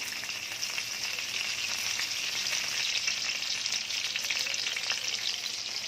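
Curry leaves and coriander sizzle in hot oil in a pan for a Konkani meal, a loud, steady crackling hiss that runs the whole time with no talking.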